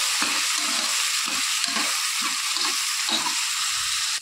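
Onions fry in a pan with a steady bright sizzle, while a spoon stirs in a regular rhythm of soft scraping strokes, close and fairly loud throughout.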